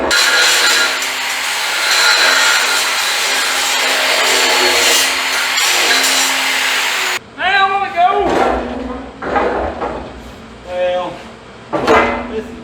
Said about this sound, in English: Let me grind up here a little bit.